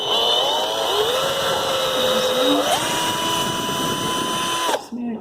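A power drill runs steadily as it enlarges a screw hole for a curtain rod. Its whine holds loud and close for about five seconds, shifts pitch partway through, then cuts off.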